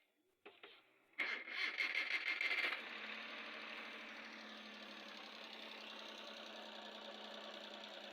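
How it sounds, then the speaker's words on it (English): A Suzuki K6A car engine, with its misfiring spark plug just replaced, cranks briefly and catches, then settles into a steady, even idle that runs on close and loud to the end. "we're about to start the car"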